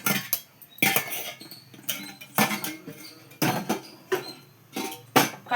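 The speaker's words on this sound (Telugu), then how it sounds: "కళాయి పెట్టాను, పోపు వేస్తున్నాను" A kadai pan set on a stove as tempering spices go in, heard as a series of sharp metallic clinks and clatters of cookware and utensils, spaced irregularly and close by.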